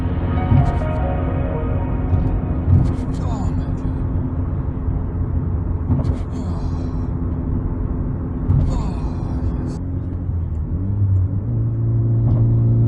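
Interior drone of a lowered Nissan S15 with stiff coilovers driving through the city, a steady low engine rumble with periodic thumps and brief rubbing scrapes, and a voice speaking over it.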